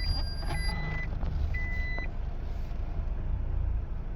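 A truck backing up sounds repeated reversing beeps, a few clear tones spaced about half a second apart, faint over a steady rumble of engines and road noise.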